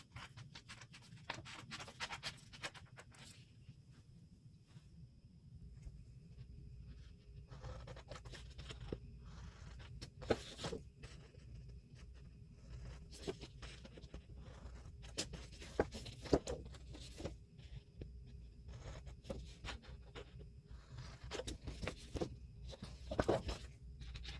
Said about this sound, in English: Now I'm going to cut the envelope based on the trace.